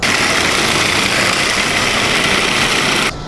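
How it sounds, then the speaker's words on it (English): A food processor grinding two cups of almonds into a coarse flour for a rocky road crust, with a loud, steady, harsh whirring grind that runs throughout and cuts off abruptly at the end. "we're going to start grinding them down almost as we did for our almond butter"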